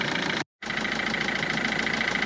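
A Citroën C3 1.4 HDI diesel engine idles steadily with a continuous mid-pitched hum and faint knock, broken by a brief dropout near the start before the even running resumes.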